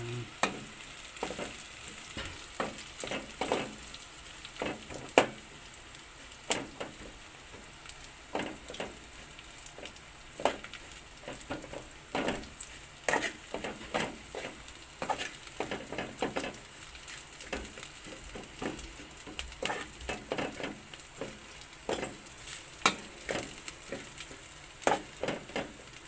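Vegetables for sinabawang gulay are stirred in a hot pan, with a steady sizzle broken by frequent scraping and clinking strokes of the utensil, close and fairly quiet, with no voices.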